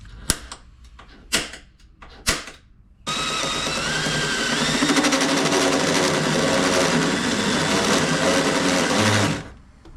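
Drill cutting through spot welds on a rusted Ford Super Duty truck rocker panel: a few sharp knocks, then a loud, steady high-pitched grinding whine lasting several seconds, close and continuous before cutting off.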